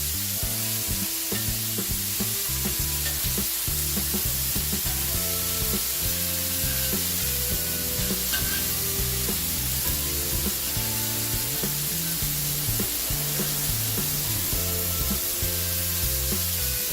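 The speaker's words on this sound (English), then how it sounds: "Now flip your bacon over and make sure that's all crisping up nicely." Burgers and bacon sizzle and crackle continuously on a hot griddle, a loud, steady frying hiss with small pops throughout.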